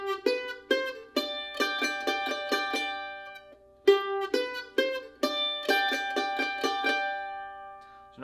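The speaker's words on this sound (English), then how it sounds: "So put those together, sounds like this." Bluegrass mandolin plays a down-up double stop rhythm pattern from the tune Nobody's Business, steady plucked two-note chords in a bouncing eighth-note groove, with a short pause midway, played alone and close.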